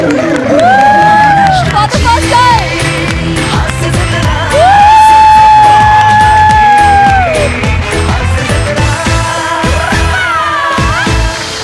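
A stage comedy show audience cheers loudly, with whoops and whistles rising over a dense, sustained crowd roar and voices throughout.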